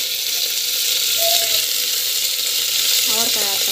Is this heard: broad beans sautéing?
yes